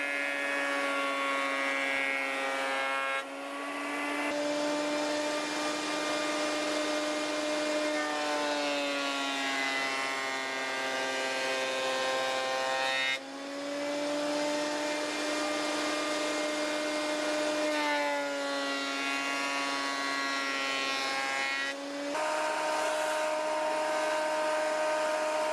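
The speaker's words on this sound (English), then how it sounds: "I went over to the planer thicknesser, and as you do over on the planer thicknesser, you plane one side and then you run it through the thicknesser." Planer thicknesser running warped pallet wood through, a loud steady whining motor roar with several brief dips as each board passes and the next is fed in; no voices.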